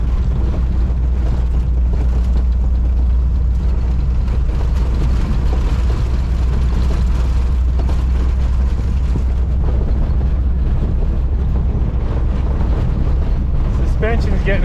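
A 1962 Ford Econoline van rolls down a bumpy road, with a loud, constant low engine and road rumble mixed with wind buffeting and occasional rattles toward the end.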